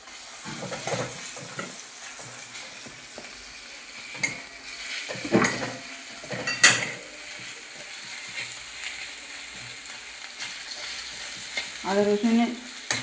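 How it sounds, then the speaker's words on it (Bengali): Ginger-garlic and cumin paste fries in hot oil for a cashew mutton curry, a soft steady sizzle broken by several scraping stirs and sharp clinks of a utensil against the pan, with no talking. "একটু ভাজা ভাজা করে নেব"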